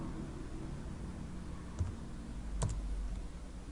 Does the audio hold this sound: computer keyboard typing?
yes